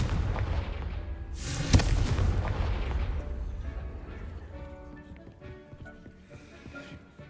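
A Confringo blasting spell in the video game Hogwarts Legacy detonates with a sharp, loud boom that rolls into a long fading rumble, leaving quieter ambient tones behind.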